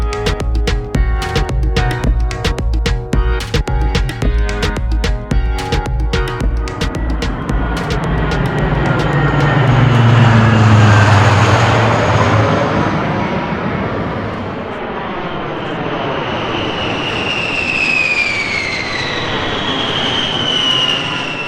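A jet aircraft passes overhead in Tucson, Arizona, building into a loud, broad roar with rumbling lows, then fading into a whining, shifting tone as it moves away, preceded by a clattering outdoor mechanical noise.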